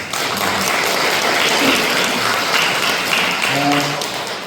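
Audience applause at a Korean apartment reconstruction briefing, honoring volunteers: a steady, dense wash of clapping from a crowd indoors that holds evenly for the whole stretch, with a few faint voices mixed in.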